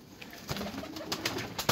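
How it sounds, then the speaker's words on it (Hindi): Pigeons coo softly nearby in a few throaty, rolling bursts, with light rustling between them. "कबूतर तो बहुत ज़्यादा है, 6 कबूतर और 6 ही मादियाँ।"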